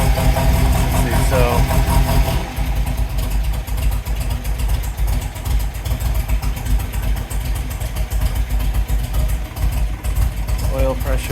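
A 1952 MG TD engine idles after a cold start with the choke on, loud and close, running steadily with a rougher, heavier stretch at first before settling into an even, rhythmic idle.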